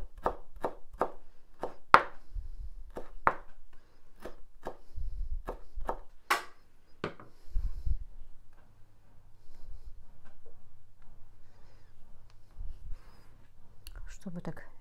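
A knife chops beetroot sharply on a cutting board in a brisk series of crisp taps, pausing between runs, with soft murmured speech nearby.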